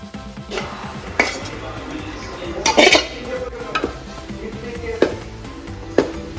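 Kappa (cassava) and beef biryani being stirred in a metal pot, with repeated sharp clanks and scrapes of a spoon against the pot over a low background, several distinct knocks spaced a second or so apart.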